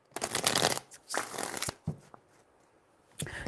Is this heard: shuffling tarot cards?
yes